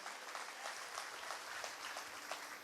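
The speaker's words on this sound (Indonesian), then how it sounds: "Berikan tepuk tangan yang meriah." A church congregation applauds during a sermon: steady, dense clapping that sounds somewhat distant and soft, with no talking over it.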